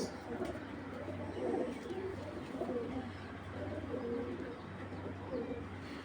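Soft, repeated low cooing of pigeons, several rounded phrases over a faint steady hum, fairly quiet and close.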